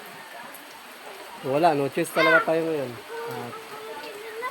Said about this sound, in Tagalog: Bigla namang naulan.